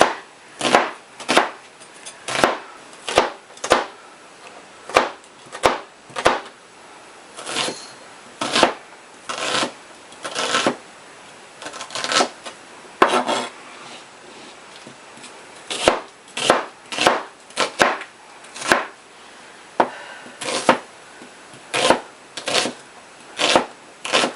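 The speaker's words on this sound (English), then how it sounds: "is some onion. Get all that cut off. Diced up." A knife chops onion on a cutting board for a slow-cooker soup, a long run of crisp, close thuds in quick irregular bursts with short pauses between them.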